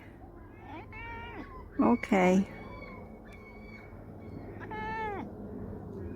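A cat meows a few times, with one loud, drawn-out cry in the middle and a softer meow later, while a person talks nearby.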